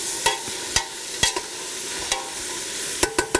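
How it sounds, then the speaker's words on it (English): A spoon stirring vegetables in a pot of corn soup over a gentle sizzle, with a handful of sharp metallic clinks against the pot spaced unevenly, close by. "I've got my spoon, and I'm just going to stir this up."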